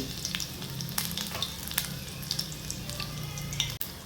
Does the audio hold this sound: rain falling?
no